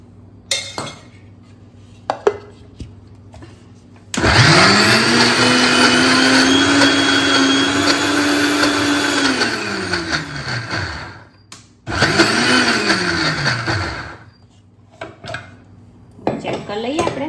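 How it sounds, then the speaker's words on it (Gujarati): A kitchen mixer grinder grinds soaked split dal with a little water in two loud whirring bursts, the pitch sagging as it labours, with metal clinks and quiet gaps between. "હજુ એકવાર મિક્સ કરીને પીસવી પડશે."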